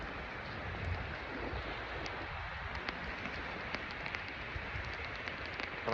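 Rain on the Baltic Sea shore, a dense even hiss of falling drops with scattered sharper patters and a soft wash of surf beneath, continuous and unbroken.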